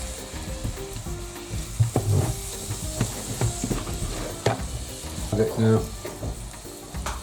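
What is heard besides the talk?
onions and mushrooms cooking down in a pan for foo yung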